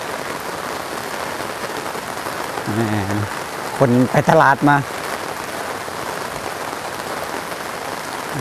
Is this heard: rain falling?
yes